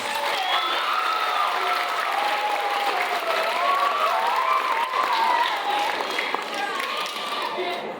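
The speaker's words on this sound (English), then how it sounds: "let's give it another round of applause for those percussionists" An audience at a seventh-grade junior high spring concert applauds the percussionists, with a dense, sustained wash of clapping and raised voices that stays loud and steady throughout.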